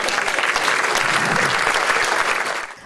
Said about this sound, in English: A massive round of applause first and foremost to everyone who was organised tonight.